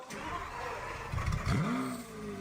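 A supercar engine cold starting, with a steady idle hum and a brief rising rev in the middle, moderately loud and heard without talk.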